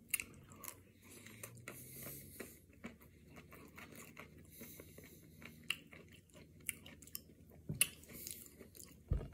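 Crunchy bites into a Nestle Coffee Crisp ice cream bar with a crisp coffee-wafer coating, close and loud, as steady crackling chews with sharp crunches scattered throughout and no talking.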